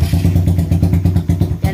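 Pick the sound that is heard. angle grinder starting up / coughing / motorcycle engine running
motorcycle engine running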